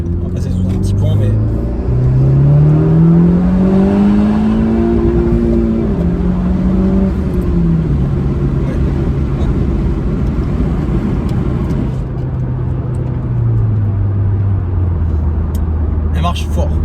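A Honda Civic Type R FK2 pulls hard under acceleration, its muffled engine note rising steadily through the gears close up inside the cabin, with someone talking over it.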